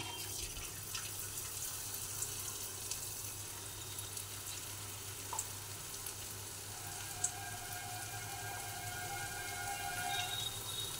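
Okra pieces drop into hot oil in a kadai and fry with a steady, soft crackling sizzle that runs the whole time, fairly quiet and with no talking.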